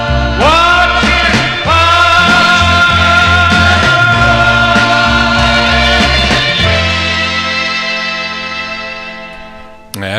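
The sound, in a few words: 1960s pop ballad record playing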